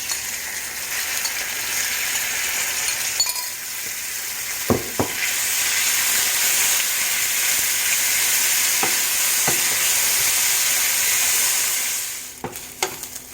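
Flour-dredged chicken pieces sizzle steadily in about half a tablespoon of olive oil in a pan, a dense crackling hiss with occasional clinks of utensils stirring, close and continuous without talking.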